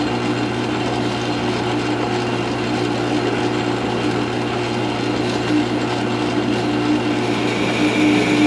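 A South Bend 9-inch metal lathe taking a cut, a steady mechanical whir and hum with a faint cutting whine running continuously throughout.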